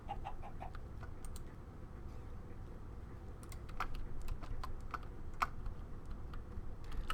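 Minecraft chickens from the Project Ozone 3 modpack cluck in a few brief bursts, mixed with steady computer keyboard clicking and a constant low background hum.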